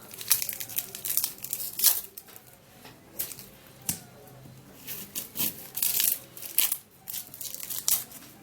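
An onion's dry papery skin is peeled away by hand with sharp crackling and crinkling bursts in an irregular rhythm, close and fairly crisp, with no speech.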